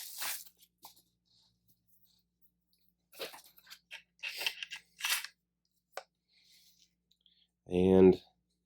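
The bolt is drawn out of a CZ 457 Scout .22 LR rifle, heard as a few short, close metallic clicks and sliding scrapes in a quiet room, with someone speaking briefly at the end.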